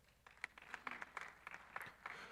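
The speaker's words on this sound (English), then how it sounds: "Let's give a round of applause." Audience applause at a development finance summit in Uganda, scattered claps swelling into steady clapping, faint and distant throughout.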